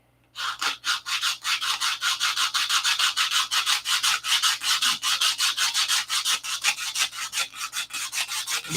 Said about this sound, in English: Get it sanded down to 1/8 inch at least on the hardwood.